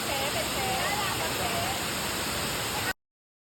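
A waterfall in Kanchanaburi roars with a steady, dense rush of falling water. It stays loud and even for about three seconds, then cuts off abruptly.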